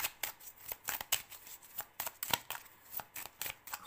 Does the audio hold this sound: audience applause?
no